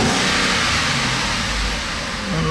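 An Audi A6 C6 FSI engine, its ignition coils just replaced after misfiring, revs up from idle with a loud, broad roar, then settles slightly lower and holds steady with no voices.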